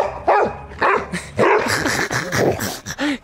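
A dog excited to see a neighbour barks repeatedly at close range in short, sharp bursts, mixing in yips and whimpers, with brief pauses between barks.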